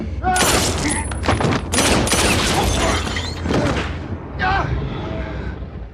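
Gunshots in a violent film scene, loud and close, bursts of heavy firing and booming impacts arriving in several waves, with a voice briefly mixed into the chaos.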